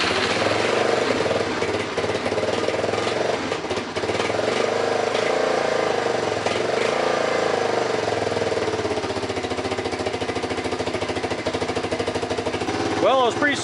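A Honda Big Red 250ES engine runs at a steady idle after starting, a loud, close, continuous mechanical drone that holds through the whole stretch.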